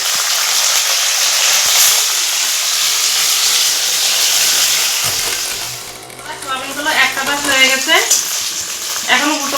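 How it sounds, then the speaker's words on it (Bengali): Soybean chunks dropped into hot oil in a wok give a loud, dense hiss that dips, then swells into bubbling, crackling sizzle in the second half, close up and without speech. "তেলটা গরম হয়ে গেছে এই তেলে এখন আমি এই সোয়াবিনগুলো"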